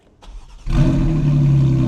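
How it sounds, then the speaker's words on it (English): 2023 Porsche Cayman GT4 RS Weissach cold-starting with its exhaust valves open: a brief starter whir, then the flat-six fires with a sharp bark and settles into a loud, steady high idle, close by. "here is your second cold start with the exhaust valves open"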